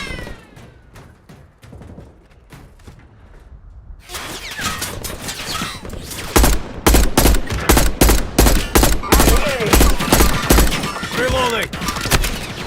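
Automatic gunfire from M4 and Kilo 141 rifles in the video game Warzone, starting with a quieter stretch then erupting into loud rapid bursts of repeated shots, with brief game voice callouts mixed in.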